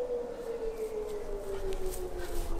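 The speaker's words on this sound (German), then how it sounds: "Die Sirene kommt schon." A siren wails steadily at a distance, holding a single drawn-out tone that sinks slowly in pitch beneath faint background noise, with no talking.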